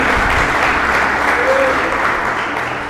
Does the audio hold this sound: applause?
yes